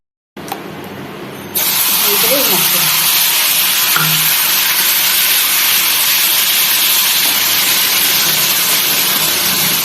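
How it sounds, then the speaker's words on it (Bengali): Spice paste frying in a pan for a vegetarian stuffed pointed gourd (potol dorma) dish: after a brief quiet start, a loud, steady, dense sizzle rises and holds to the end, with a faint voice briefly underneath. "ভালো করে মশলাটা একটু ভাজা হোক"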